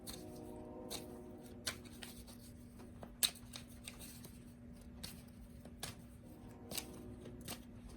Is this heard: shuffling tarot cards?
yes